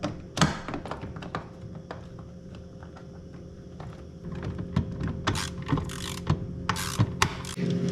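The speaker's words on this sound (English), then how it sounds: "This screw I'm putting in now is what holds the" A screw is driven into the tray assembly of a KitchenAid or Whirlpool refrigerator ice maker, giving close, steady ratcheting clicks and small taps over a low hum, with sharper clicks toward the end.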